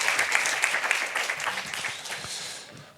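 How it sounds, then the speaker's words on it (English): A short burst of applause from a conference audience at the EAT Forum 2019, dense clapping that fades slightly toward the end. "Round of applause."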